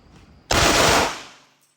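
A grey Beretta PX4 blank-firing pistol fires a loud, rapid full-auto burst lasting about half a second, then the blast echo decays, with no talking.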